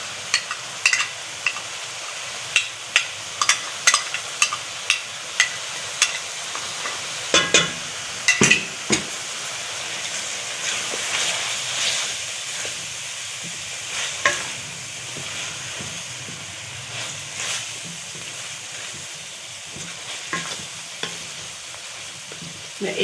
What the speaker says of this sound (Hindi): मैं 1 मिनट तक इसको अच्छा सा भूनूंगी